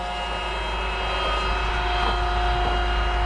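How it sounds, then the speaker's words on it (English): A semi truck pumps liquid into its tank at a school, about 5,000 gallons per load, making a loud, steady mechanical drone with a constant hum and no pauses. "This one's pumping now, filling up."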